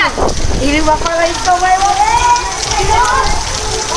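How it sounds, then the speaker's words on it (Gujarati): Steady hissing rain pours down close by at a hostel in Kodinar during heavy rain while someone talks over it. "આપ જોઈ શકો છો કે હજી વરસાદ બહુ છે"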